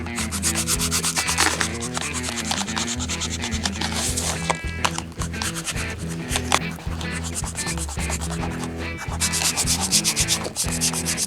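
Sandpaper rubs steadily along the edge of a leather goods piece, a continuous close scratchy abrasion with rhythmic back-and-forth strokes lasting throughout.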